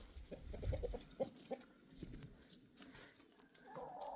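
Backyard chickens and a rooster in a dirt yard, faint scattered clucks and short calls in quick bursts, heard at a distance with no talk.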